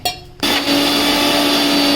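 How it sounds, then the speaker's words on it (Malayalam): An electric mixer grinder whirs into life after a brief pause and runs loud and steady, grinding roasted masala with water for an egg roll curry. "കുറച്ച് വെള്ളം കൂടി ഒഴിച്ച് നമുക്ക് അരച്ചെടുക്കാവേ."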